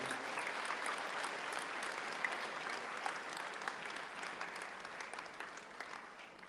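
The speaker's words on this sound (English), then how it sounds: "Please, let's clap one more time." An audience claps together in a sustained, even burst of applause, heard from a slight distance and moderately quiet, with scattered sharper individual claps and no talk over it.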